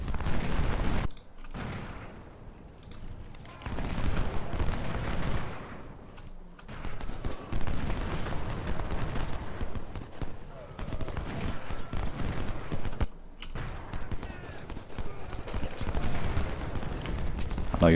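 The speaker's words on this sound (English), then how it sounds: "Keep these cannons quiet." Cannon artillery and rapid gunfire in the Civil War video game Ultimate General: Civil War, repeated booming blasts and crackle in a dense, continuous battle mix, with brief drops to near silence between bursts.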